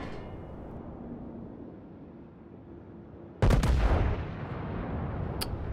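A Tirpitz battleship's main guns firing in World of Warships: one sudden, heavy, booming salvo cuts through a low rumbling background and then fades into a lingering roll.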